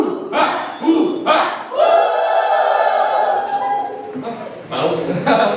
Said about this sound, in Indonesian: Ayo, ben semangat, kita tepuk Indian.